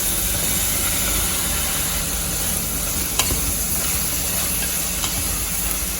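Onions added to garlic paste sauté in a hot pan for a veggie biryani, giving a loud, continuous sizzle and hiss with an occasional faint clink.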